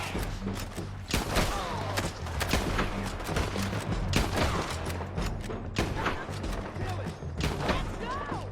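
Dense gunfire from a frontier-era shootout in Red Dead Redemption 2, rapid loud shots in overlapping bursts across the whole stretch, with shouted voices mixed in among the bangs.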